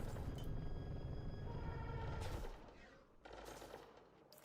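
In a combat video game a player fires at a turret, a dense burst of rapid automatic gunfire for about two seconds, then cutting out to a quieter rumble and a shorter second burst.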